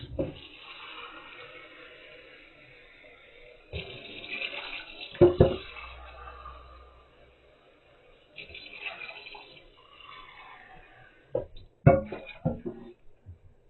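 Tap water runs into a cooking pot in a home kitchen, a steady broad rush lasting several seconds with a few clanks and knocks of the pot; a voice speaks briefly in the background.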